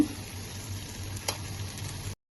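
Tomatoes and onions sautéing in a pan for chicken biryani, giving a steady, even sizzle throughout with one brief louder stir near the middle; no voices.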